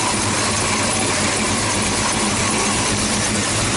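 A Ford Mustang hot rod engine runs continuously in a shop, a loud, steady, rough drone with heavy low rumble and no talk.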